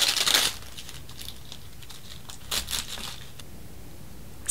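Tissue paper tears away from a sewn seam in silk fabric, a brief crisp rip followed by softer crinkling and a second short tear, close and fairly quiet.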